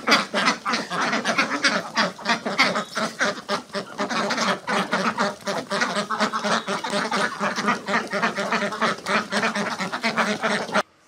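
Khaki Campbell ducks on a small farm quacking in a dense, rapid chorus of overlapping calls, close and loud, continuing without a break until cutting off abruptly.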